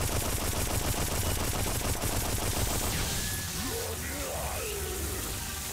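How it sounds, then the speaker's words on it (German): Rapid-fire shooting from a fast weapon in the first-person shooter Painkiller Hell & Damnation, a steady loud stream of shots for about three seconds, then dense game noise and creature sounds. "Mal einfach eine Waffe nehmen, die ein bisschen schneller schießt."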